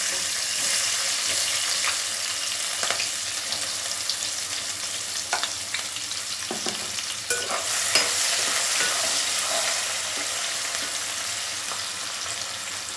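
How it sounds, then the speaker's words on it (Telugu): Chopped onions hitting hot oil with popped mustard seeds for a cashew and okra fry, a loud bright continuous sizzle close up, with a few scrapes and clinks of a spoon, no speech. "ఆవాలు ఎగిపోయాయండి ఇప్పుడు ఉల్లిపాయ ముక్కలు వేస్తాను"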